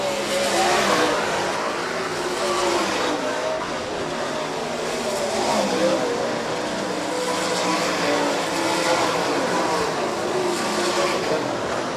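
Sportsman and MSTS sprint race cars race in a heat at Rapid Speedway, a loud, continuous roar of several engines revving and rising with no break.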